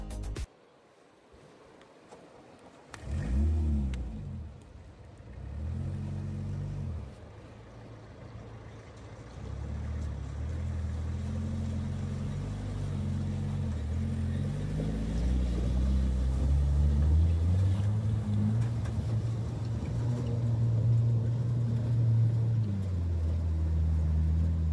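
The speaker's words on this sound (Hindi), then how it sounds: "ये थी असली ऑफ रोडिंग जो है रामनगर से 20 किलोमीटर दूर मारचूला में" A 4x4 vehicle on an extreme off-road ride near Marchula, about 20 km from Ramnagar, its engine droning low and steady, surging in bursts early on and then rising into a sustained, louder revving drone with no talk.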